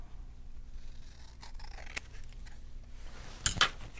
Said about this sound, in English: just a little trimming on the edge, looks like, and it will work. I'll cut a little bit off.